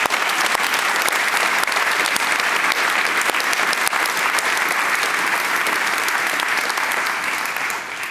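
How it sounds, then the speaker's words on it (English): Sustained applause from a large investment conference audience, thanking behind-the-scenes staff, a dense even roar of many hands clapping that holds steady and tapers slightly at the end. "if you wouldn't mind just helping me, giving them a bit of applause"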